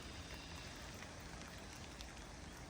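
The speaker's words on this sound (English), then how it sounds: "right now, the rain's pretty light." Light rain falls steadily over a backyard chicken yard, a continuous soft hiss of drops with no voices.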